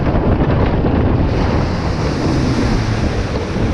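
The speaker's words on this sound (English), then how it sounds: "it's really cold now that there's a massive gust of wind" A strong gust of wind hits the microphone on a theme park water ride, a loud, steady roaring buffet that lasts throughout with rushing water noise mixed in.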